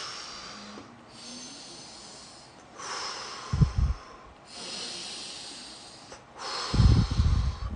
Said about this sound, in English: I'm gonna breathe in my nose